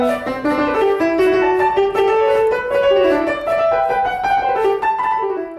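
Bach Goldberg Variation played on piano with both hands together: bright, continuous runs and fragmented figures, a steady stream of notes at close, even loudness, with no talking.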